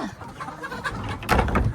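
Chickens cluck faintly as they are shut into their coop basket, their short calls mixed with rustling and a soft bump near the end.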